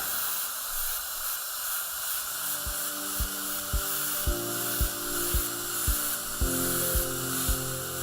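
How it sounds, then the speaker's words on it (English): A silicone-impregnated polishing brush works over an OMNICHROMA dental composite restoration, giving a steady close hiss with soft rhythmic ticks about every half second, no voices. "This is a silicone impregnated polishing brush. And it will polish without removing texture."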